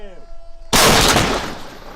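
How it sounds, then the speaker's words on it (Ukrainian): A single loud, sharp tank gun blast erupts after brief quiet, followed by a long rumbling decay. "Постріл."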